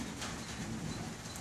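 Pet birds fed on bird seed and game bird crumbles coo softly in a low, continuous murmur against steady outdoor background noise.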